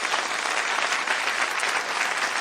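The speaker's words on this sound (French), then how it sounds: "Applaudissements." Steady, dense applause from an audience at the opening of a Chinese painting art festival contest, many hands clapping at an even, fairly loud level with no voices standing out.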